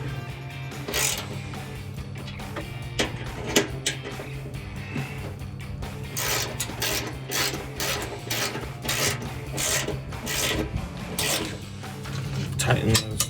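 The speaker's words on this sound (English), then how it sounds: "This is again with our 10 millimeter socket and 3/8 drive ratchet." A 3/8-inch drive ratchet with a 10 mm socket tightens bolts on a 2017-2020 Ford F-150 5.0L exhaust install, giving irregular rasping clicks and scrapes at close range.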